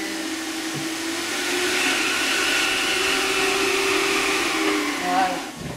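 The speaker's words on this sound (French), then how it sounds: "jusqu'à ce que je puisse progressivement passer l'aspirateur en augmentant à chaque fois le son" A vacuum cleaner runs with a steady whining roar that swells slightly in the middle, used near a puppy, then cuts off near the end.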